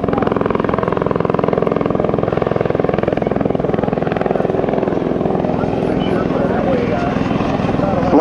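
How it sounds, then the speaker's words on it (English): A CH-146 Griffon military helicopter flies backwards during an airshow demonstration, its steady rotor thump and engine whine loud and continuous throughout, with no break. "flying the helicopter backwards."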